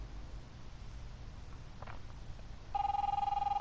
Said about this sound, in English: 90s style phone.